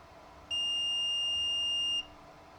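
A multimeter on continuity test gives one steady, clear electronic beep of about a second and a half over a faint background hum, during work on vintage radio electronics.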